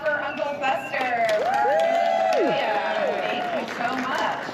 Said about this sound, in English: can we give another great round of applause for Uncle Fester?